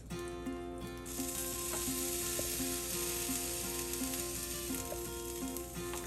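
Continuous hissing sizzle of water poured into a hot pressure cooker while making goat head curry, with faint metallic clinks and rattles repeating underneath.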